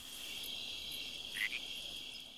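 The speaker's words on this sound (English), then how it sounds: "I heard a frog." A frog croaks in Metal Gear Solid 3: Subsistence, a short chirpy call standing out against a steady bed of insect-like trilling, faint and at a distance, with no voices.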